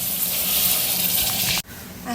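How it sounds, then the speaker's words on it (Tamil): Water poured steadily into a cooking pot while making pulao, a continuous broadband gush that fills the clip, breaks off abruptly near the end, then resumes with a brighter splash. "ரெண்டு கிளாஸ் தண்ணி அந்த ஆளாக்குலேயே அளந்து ஊற்றுங்க"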